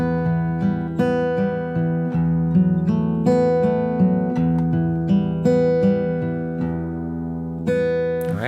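Fingerstyle acoustic guitar plays the opening two measures of the hymn O Sacred Head Now Wounded, with ringing plucked notes and chords that overlap and sustain in a steady, moderate rhythm, close and clear with no talking.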